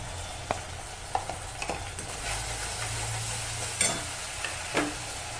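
Mustard paste hits a frying pan for a rohu fish mustard-poppy curry, sizzling steadily while a spatula stirs with several sharp scrapes and taps.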